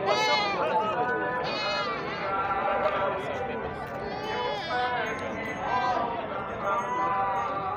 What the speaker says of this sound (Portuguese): Vamos passar aqui pelo bode, pelo meio dos bodes.